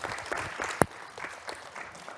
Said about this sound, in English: let us give some big applause to him